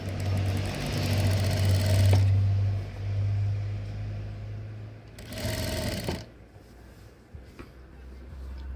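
Sewing machine stitching a V-neck kurti, running in steady humming bursts with a pause between them, then stopping and going quiet.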